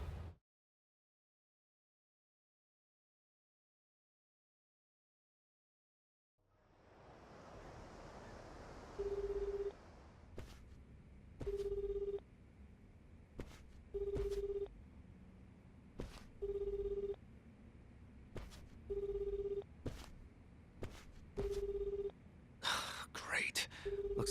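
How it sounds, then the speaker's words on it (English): A phone call attempt in the video game Like a Dragon: Infinite Wealth: silence, then a hiss of line noise and a repeating series of short, evenly spaced electronic call tones, each with a click, ending in a burst of noise. "Looks like they turned off Kiryu-san's phone."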